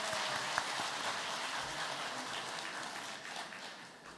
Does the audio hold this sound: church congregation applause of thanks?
yes